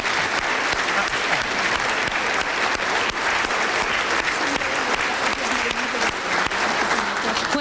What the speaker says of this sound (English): I'd like to have a round of applause for both panels this afternoon.